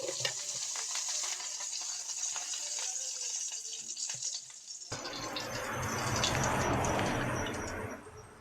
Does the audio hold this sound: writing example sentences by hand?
no